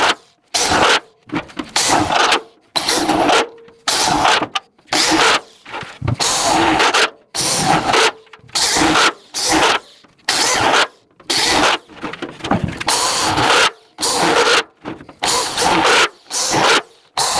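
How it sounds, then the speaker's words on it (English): Power drill boring a ring of holes around the side of a 55-gallon steel drum for a charcoal retort kiln, loud repeated bursts of high-pitched grinding, each about a second long, separated by short pauses. "I'm going to drill some holes all the way around so that you get good airflow going up along the sides"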